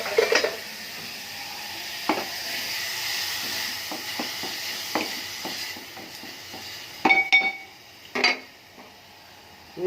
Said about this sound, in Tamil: எல்லாமே வச்சு தட்டிக்கிறேன்.